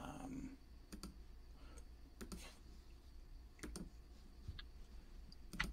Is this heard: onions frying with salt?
no